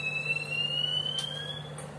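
Smoke detector alarm in an air-conditioned railway train coach, a continuous high-pitched electronic tone sounding steadily and fairly loud over a low constant hum, with no voices.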